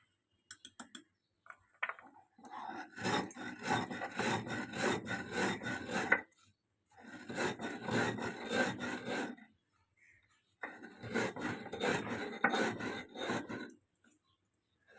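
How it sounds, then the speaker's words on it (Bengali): Sugar is ground into powder in a kitchen grinder for watermelon ice cream, heard as three rough, rattling bursts of a few seconds each, separated by short pauses and fairly close. "চিনিটাকে একটু গুঁড়ো করে নেবো"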